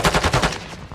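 Gunfire in Call of Duty, credited to a sniper, comes as a quick loud run of about half a dozen sharp shots that fade out at the end.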